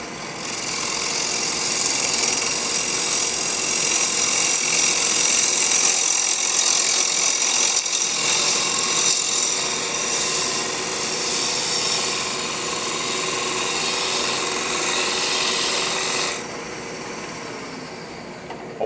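Wood lathe spinning at about 1800 RPM while a gouge cuts a bowl blank, a steady loud broadband whir and cutting hiss running continuously with no talk, then dropping slightly toward the end.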